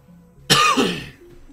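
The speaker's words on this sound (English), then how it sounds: "Apologize for the coughing." A single harsh cough bursts out close to the microphone, a short throaty rasp that fades within about half a second against a quiet background.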